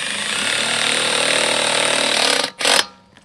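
Power driver runs a screw through the pre-drilled mounting hole of a downspout strap repair kit into home siding, a loud steady whine for about two and a half seconds, then a short burst before stopping.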